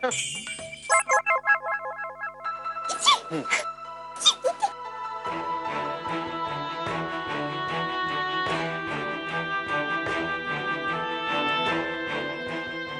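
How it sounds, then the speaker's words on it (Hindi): A phone ringtone plays, a chiming electronic melody that starts with a few short bursts and then settles into a continuous tune. "ज़ारा जी, फोन उठाइए ना।"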